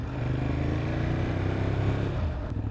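A Ducati Monster 821 motorcycle is ridden through gear changes, its engine a steady, loud, close drone with low harmonics that shift in pitch across the run and no talk over it.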